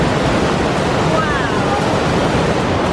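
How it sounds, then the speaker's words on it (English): A rushing waterfall in the French Pyrenees roars as steady, loud broadband noise, filling the whole clip with a constant close wash of falling water. "It's an awesome waterfall."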